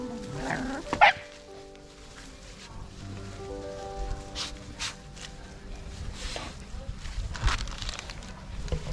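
Several dogs squabble and bark over a piece of rawhide, with yips and growly bursts scattered through the clip amid background noise and a person's voice.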